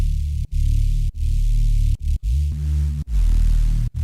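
Thick synth Reese bass built from four detuned saw waves with a strong sub layer, a loud, buzzing low drone broken by short gaps, some notes sliding, in a 140 hardstyle trap production.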